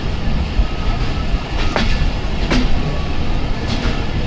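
Train 103 crosses at a station on the Rawalpindi to Lahore line, a loud, steady rolling rumble with clattering wheels and a few sharp metallic squeals.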